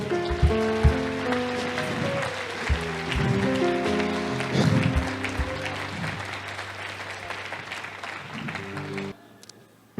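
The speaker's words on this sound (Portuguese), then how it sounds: "Você pode aplaudir o nome do Senhor?" Church congregation at a Baptist service claps in a steady, dense applause over sustained keyboard music with low bass notes, then the clapping and music cut off abruptly near the end, leaving a faint tail.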